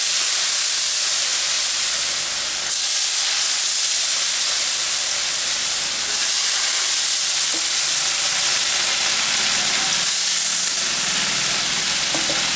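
Hot oil sizzles steadily into mango pickle (aam ka achar), a loud continuous frying hiss with bubbling crackle that persists without talk throughout.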